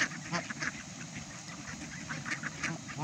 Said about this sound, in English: Here you go, Mr. Mallard.